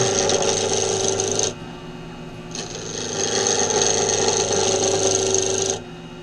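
A wooden slimline pen blank being turned down on a lathe gives a loud, steady scraping rasp from the tool on spinning wood, in two long passes separated by a short quieter pause.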